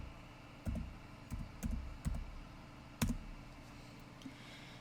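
A URL is typed on a computer keyboard in short clustered bursts of close, crisp key clicks, with a single louder keystroke near the end, in an otherwise quiet room.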